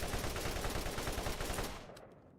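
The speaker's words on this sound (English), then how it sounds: "I still gun things down at range by virtue of sending out enough bullets" The Bastard gun in Borderlands fires a rapid sustained burst of shots, dense and loud, then cuts off abruptly near the end, leaving a fading tail.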